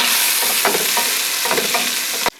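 Tomatoes added to sizzling garlic and red chili paste in a pan, a loud steady frying hiss with a few stirring scrapes, ending abruptly.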